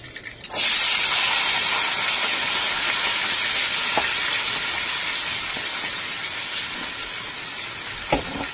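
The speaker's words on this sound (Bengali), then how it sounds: "আগে থেকে কেটে রাখা পেঁয়াজ, ক্যাপসিকাম আর কাঁচা লঙ্কা, এরকম রাফলি চপ করে কেটে রাখাটা দিয়ে দেবো" Roughly chopped onion, capsicum and green chilli land in hot oil seasoned with turmeric and salt, setting off a sudden loud, dense sizzle that holds steady and close throughout, with a couple of faint clicks.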